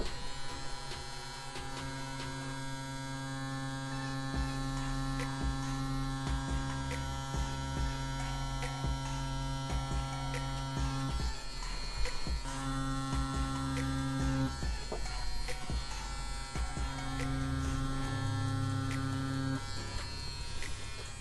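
A CNC CW2 wireless tattoo machine runs with a steady close electric buzz and hum, pausing briefly a couple of times before resuming, with no one talking.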